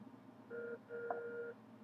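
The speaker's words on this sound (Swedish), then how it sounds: "Telefon!" A telephone in the Jönssonligan går på Djupet video game sounds two steady electronic tones, one short beep then a longer one, fairly clear over a low background hum.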